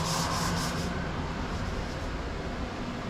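A surface conditioning tool sands the metal back panel of a 1941 Chevy truck restomod, giving a steady, loud abrasive whir and rub that runs continuously and close up, with no talk.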